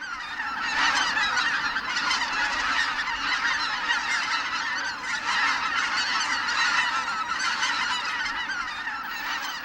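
A large flock of greater white-fronted geese honks continuously over a quiet winter reservoir in Cheorwon, Gangwon, a dense overlapping chorus of calls that stays loud and steady throughout.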